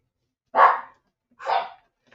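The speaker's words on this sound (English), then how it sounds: "And yes, that's my dog." Two short, loud dog barks close by, spaced about a second apart, with silence around them and no talking.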